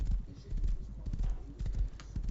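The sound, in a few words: horse hooves clip-clop in the video game Rust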